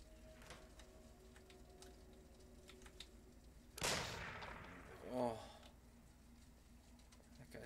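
A single loud gunshot blast in a video game, sharp and close, ringing out with a short echoing tail, followed by a second lesser report about a second later over quiet game ambience.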